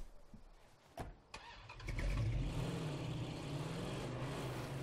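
A car engine starts in the video game State of Decay 2: a couple of clicks and a cranking catch, then a steady low idle rumble that holds, moderately loud.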